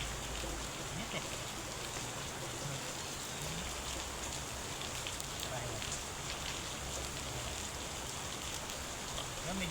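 Steady, heavy rain pours down in a dense, constant hiss, with a few faint thuds and clatter underneath and no talking.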